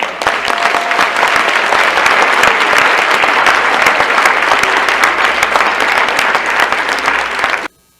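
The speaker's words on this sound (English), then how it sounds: "So a round of applause for Graham Hancock." Sustained audience applause for author Graham Hancock fills the hall at a lecture, a dense, loud wash of clapping that holds steady for about seven seconds before cutting off abruptly.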